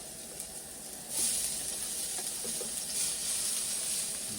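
Garlic drops into hot avocado oil in a pan on a Coleman camp stove, and a steady, close frying hiss swells after a second and holds evenly, with no talking.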